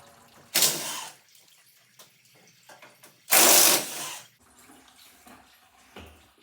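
Coolant draining from the radiator of a 2012 Ram 1500, two loud splashing gushes of liquid close by, separated by quieter dripping and handling noises.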